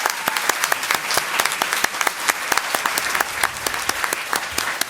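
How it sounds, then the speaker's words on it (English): Steady applause from an audience at a school district board of trustees meeting in Pasadena, dense overlapping claps continuing evenly for several seconds without speech. "you can clap for that"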